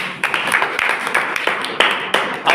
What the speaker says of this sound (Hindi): शालिनी के लिए ताली बजाए सब लोग।